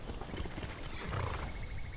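Horse neighing with hooves clip-clopping in a video game, a steady close clatter of hoofbeats blended into dense, noisy ambience for the whole stretch.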